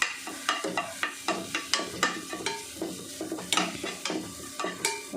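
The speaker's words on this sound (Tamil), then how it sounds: "இப்போ இருக்கிறத வச்சு ஒரு ஃப்ரைட் ரைஸ் பண்ணிட்டோம்" A spatula scrapes and tosses vegetable fried rice with egg, beans and chillies in a hot pan, rhythmic repeated stirring strokes over a steady sizzle, close and loud.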